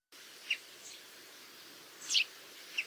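A common chaffinch (Fringilla coelebs) at early dawn gives a few faint, brief high chirps and short song phrases against quiet background hiss, distant and sparse.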